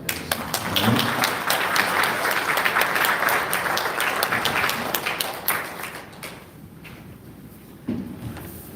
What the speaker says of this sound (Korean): 크게 하는 박수로 드리겠습니다